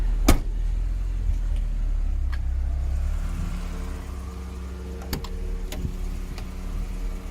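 A 1989 Lada VAZ 2109 Sputnik driving, its engine a steady low hum with gentle rises in pitch as it moves off, plus a few sharp clicks and knocks from inside the cabin.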